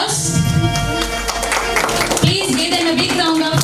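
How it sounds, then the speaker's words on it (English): Applause from an audience at a kindergarten graduation ceremony, welcoming dignitaries into the hall, as steady dense clapping mixed with crowd noise and music. "let us welcome them with a big round of applause."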